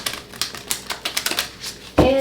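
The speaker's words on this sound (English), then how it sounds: "Last shuffle." A deck of tarot cards is shuffled in quick, rhythmic riffling bursts of crisp close-up clicks, ending in a short louder snap.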